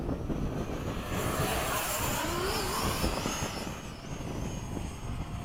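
FMS 70mm F/A-18 RC jets flying in formation at sunset give a continuous loud whooshing turbine roar with shifting pitch sweeps as they pass overhead at moderate distance.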